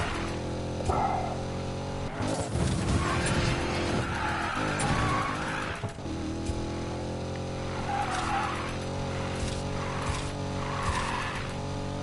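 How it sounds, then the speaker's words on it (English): A Chevrolet Corvette drifts sideways in Need for Speed Payback, its engine roaring steadily while tires squeal and skid through long slides, with a loud burst of tire noise midway. "Just getting it sideways, crossing up the power of the Corvette"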